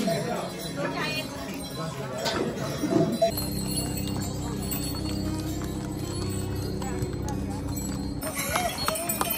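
Pack horses walking along a muddy mountain trail on the way to Kedarnath, their hooves clopping with occasional clinks of tack against steady crowd noise and nearby voices talking throughout.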